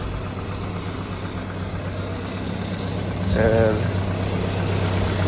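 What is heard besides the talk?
2.5 Iron Duke truck engine idling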